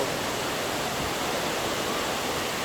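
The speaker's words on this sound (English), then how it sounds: "There's the waterfall going down." A cloud forest waterfall at Crystal Mountain produces a continuous, even hiss of falling water, broadband and unbroken throughout.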